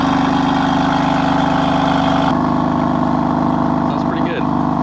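A BMW F80 M3 with a Bootmod3 burble tune, VRSF mid-pipe and stock mufflers idles with a steady low droning exhaust note, then a sharper blip and some crackle near the end, close and loud.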